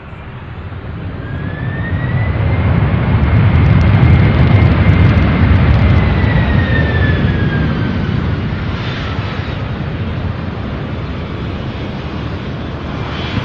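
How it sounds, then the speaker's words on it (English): A Boeing 767 in from Newark lands at Louisville airport, its jet engine roar swelling loud over the first few seconds, then holding as a broad steady rumble with a faint whine. "Next 767 out of Newark landing now."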